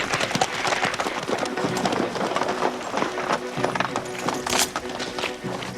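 Horses clatter along in a busy, continuous stream of hoof clip-clops with a neigh mixed into the dense, fairly loud din, in a period adventure setting.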